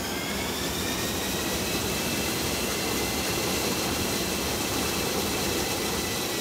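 Folland Gnat jet fighter engine, a loud continuous jet roar with a steady hiss and a high whine on top, unchanging throughout with no talk.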